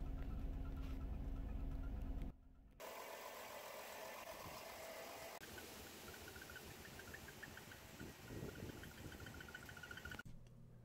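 A car engine with a cylinder misfire idles with an uneven, stumbling exhaust note, steady and fairly close, with no talking.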